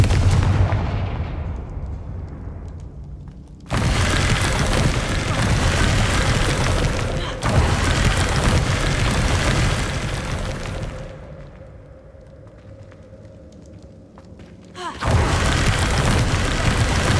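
Confringo fire spell explosions in the Hogwarts Legacy video game, a series of loud sustained booming bursts with brief quieter lulls between them.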